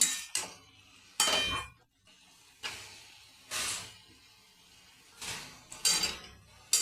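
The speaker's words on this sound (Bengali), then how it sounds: "দিয়ে ভালো করে নাড়াচাড়া করে নেব।" A spoon scrapes and knocks against a pan while stirring leafy greens with turmeric and green chilies, several separate clanking bursts spaced by quiet gaps.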